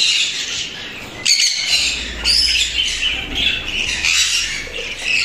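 Budgerigar chicks squawk and chirp from opened nest boxes, a busy, close chorus of shrill calls with short bursts and overlapping cries, plus a brief low rumble of handling noise partway through.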